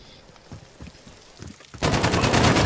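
Gunfire from the video game Modern Warfare: a few scattered shots early, then a dense, loud rapid-fire burst that holds steady to the end, with no talk.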